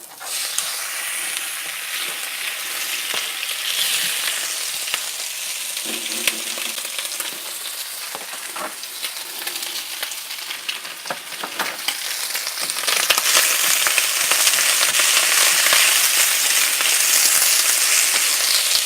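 Italian sausage meat frying in a pan, a steady loud sizzle with crackles and occasional stirring scrapes that grows louder and denser toward the end, with no talking.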